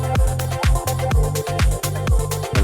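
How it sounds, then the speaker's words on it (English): A chopped vocal sample in an electronic music production, repeating in short rhythmic stabs over a steady sustained low bass, loud and up close with no talking. "Here's the first vocal chop."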